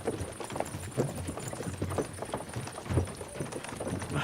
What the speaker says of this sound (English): can't you make the horses go a little faster